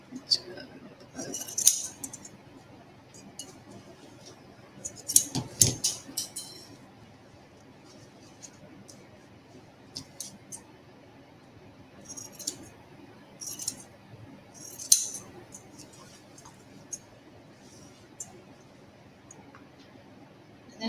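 Quiet, sporadic metallic clicks and snips, like scissors closing, come in small bursts separated by stretches of near silence.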